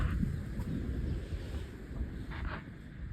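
Steady wind buffets the microphone on an open riverbank during spring feeder fishing before the spawning ban, a continuous low roar with no pauses and no voices.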